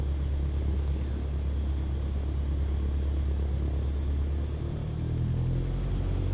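A Cessna 170B's piston engine in Microsoft Flight Simulator 2024 rumbles steadily, then swells slightly as the throttle opens, a continuous close drone with no voices.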